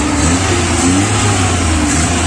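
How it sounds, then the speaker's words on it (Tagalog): A car engine runs steadily with a smooth, even hum and mild revving, close and loud throughout with no talking. "Napakaganda ng tunog ng makina o galaw ng makina."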